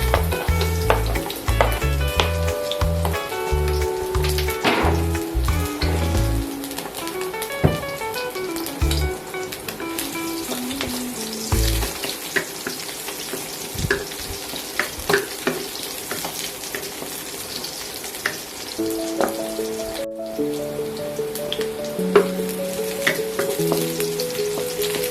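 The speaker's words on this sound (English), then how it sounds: "First of all, stir fry the garlic with shallot." Garlic and shallot stir-fry in hot oil before leafy sawi greens go in, a continuous crackling sizzle with occasional utensil knocks, running alongside tonal background music.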